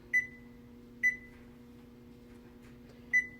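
Oven timer on a kitchen oven giving three short, clear electronic beeps, spaced unevenly, quiet and close over a low background hum, with no talking.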